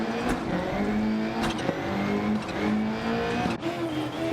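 A rally car in Dirt Rally 2.0 on a Scottish stage revs hard through a handbrake slide, its engine note rising and falling in steady loud surges with brief sharp transients, no voices over it.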